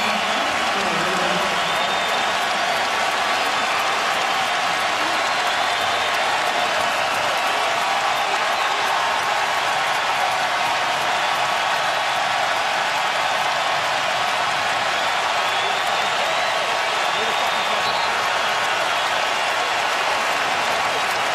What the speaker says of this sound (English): now Dwayne Wade and LeBron James will come out of the game to the roar of the crowd